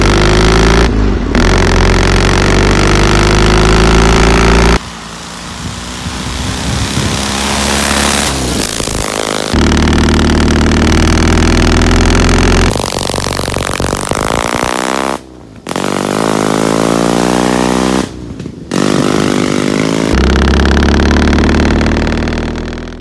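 A stock Dnepr motorcycle engine runs loudly and steadily for most of the stretch, swelling and dipping as it revs, with a few brief sharp drops in level.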